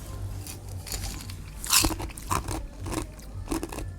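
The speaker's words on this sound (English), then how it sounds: "Now I'm crunching ice in your ear." Ice crunched by mouth close to the microphone, several sharp bites and crackly crunches over about four seconds with one louder crunch near the middle, with no talking.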